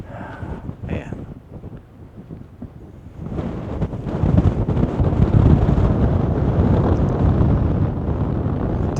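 Strong wind blows steadily across a free campsite with a wide view in Capitol Reef National Park's Cathedral Valley, rumbling into the microphone as a loud, continuous roar that builds about halfway through.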